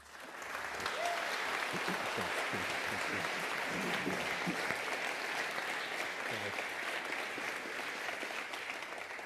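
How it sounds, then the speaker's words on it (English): Audience applause filling a full room at a community climate forum in Hobart as a professor is welcomed to speak; steady, dense clapping sustained for about nine seconds with no talk over it. "Please make welcome this evening Professor Tim Flannery."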